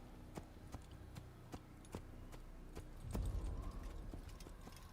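Horse hooves clip-clopping at a steady trot in Assassin's Creed, faint and regular, with a louder rumble of movement near the end and no talk.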